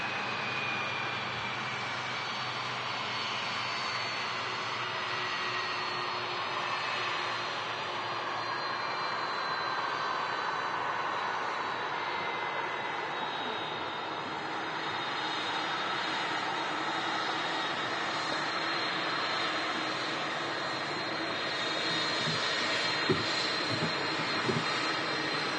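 A Turkish Airlines Airbus A330-300 jet at Manchester Airport gives a steady, broad engine roar that holds loud and unbroken throughout, with no voices.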